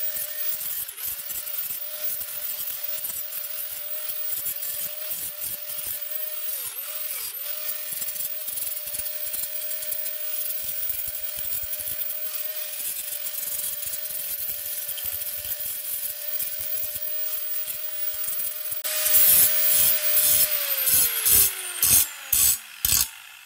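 Sharp cut edges on a motorcycle light fitting are polished with a power tool, a steady close whining hum with rough grinding friction that grows louder and choppier before winding down at the end.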